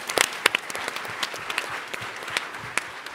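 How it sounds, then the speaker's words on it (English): A sparse scatter of claps from the audience at a startup pitch event, loose and uneven with a few sharp, close hand strikes standing out above a soft background murmur. "Give a round of applause."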